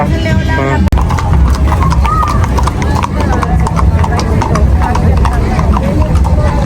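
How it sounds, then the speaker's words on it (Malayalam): Horse hooves clip-clop on pavement in a steady trotting rhythm amid busy street noise in Mexico, with a voice talking over them. "കൊച്ചു ചെറുക്കനാട്ടോ കുതിര ഓടിച്ചിട്ടുണ്ട് പോകുന്നത്"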